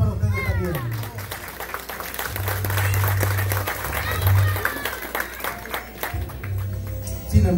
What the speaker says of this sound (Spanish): Un aplauso para ustedes también.